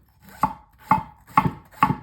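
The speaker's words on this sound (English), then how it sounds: "We are done chopping the karela or bitter gourd." A knife slices thinly through bitter melon (karela) on a cutting board, four crisp evenly spaced chops with a sharp tap on the board, close and clear with no talk.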